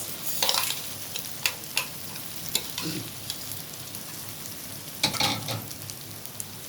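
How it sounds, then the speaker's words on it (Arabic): Half a kilo of rice being stirred and fried in ghee and oil in a pot for Alexandrian koshari, a soft steady sizzle broken by scattered scrapes of the spoon, close up with no voices. "تقلبي فيه بقى وتحوري فيه كده لحد ما ايه يشرب السمنه والزيت بتاعه"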